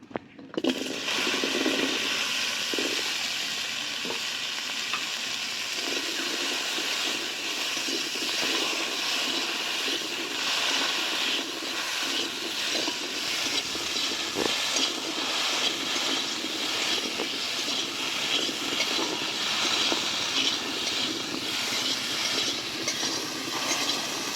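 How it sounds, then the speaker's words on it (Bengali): Okra frying on low heat in leftover fish-frying oil, giving a continuous, even hiss that stays steady and moderately loud throughout with no voices. "ঢ্যাঁড়স ভাজা হচ্ছে অল্প আঁচে"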